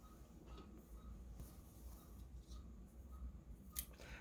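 Scissors snipping through lace while sewing a fabric journal, a few soft close cuts with a sharper snip near the end, over a steady low background hum.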